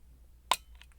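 A single sharp, faint metallic click comes from a Miwa PR Japanese wafer lock being picked, close up against a quiet background.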